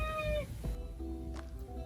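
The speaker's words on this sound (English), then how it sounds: "There's a kitty." A cat meows a few times in a short burst, close and clear, with a bathroom's faint background hum.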